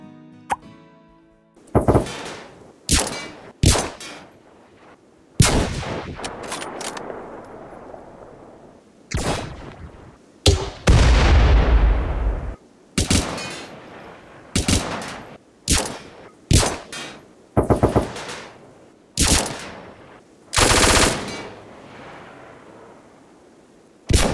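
Repeated bursts of RimWorld weapon gunfire, loud and punchy, with short gaps between volleys and booming low-end blasts; no talking.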